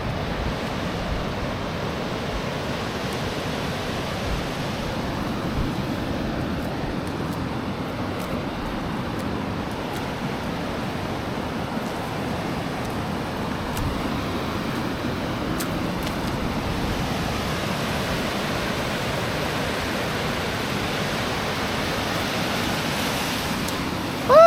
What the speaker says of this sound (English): This is really a beautiful beach.